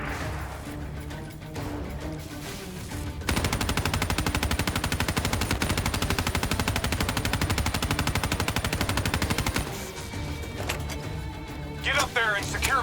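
Dense, sustained automatic gunfire and explosive crashes from a Call of Duty Black Ops 3 firefight, loud and continuous for several seconds with brief lulls and scattered impacts near the end.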